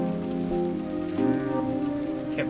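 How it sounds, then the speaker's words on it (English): Rain falls steadily in the video game Islets, a soft continuous patter under a droning tonal music bed, with no voices. "Can't run around in this rain without an umbrella."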